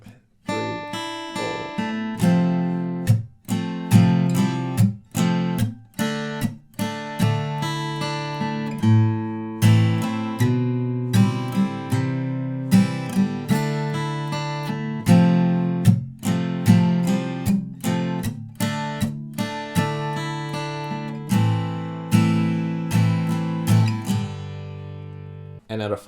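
A guitar plays a riff-based intro and chorus, with clear, evenly paced picked notes ringing out one after another for the whole stretch.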